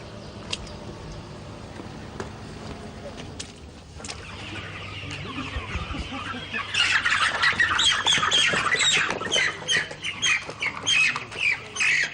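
Broiler chickens in a poultry house squawk and cluck, sparse and muffled at first, then swelling into a loud, dense chorus of overlapping calls that continues to the end.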